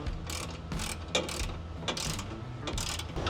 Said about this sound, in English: Now we can proceed with tightening down our 24mm bolts.